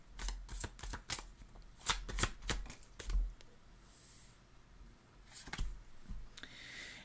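A deck of tarot cards being shuffled in a run of crisp riffling bursts and soft slaps, close by and fairly quiet, with short pauses between bursts.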